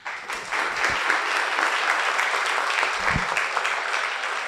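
An audience at a student leadership awards event claps steadily throughout, sustained applause filling the room at an even level.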